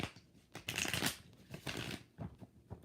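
Tarot cards being shuffled by hand in repeated papery riffling bursts, close and fairly loud, with brief pauses between shuffles and no voices.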